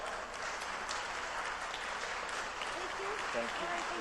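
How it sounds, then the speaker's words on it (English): Audience applause at a business summit for a presenter named Lisa, a steady, dense wash of clapping from a crowded room filling the whole stretch, with faint voices murmuring underneath. "Everyone, let's give Lisa a round of applause."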